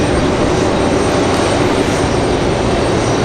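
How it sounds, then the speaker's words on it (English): An airplane's engines roar steadily and loudly as it arrives at Raleigh Durham International Airport, a dense, unbroken drone with no voices. "We've got about 5 different aircraft coming in here."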